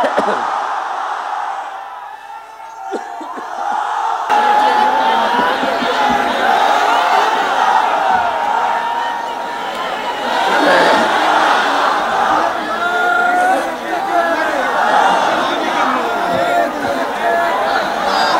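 A large crowd at an Islamic mahfil in Pabna, Bangladesh shouts a takbir response in unison. After a quiet start, a loud, sustained roar of many voices rises and continues with chanting and cheering.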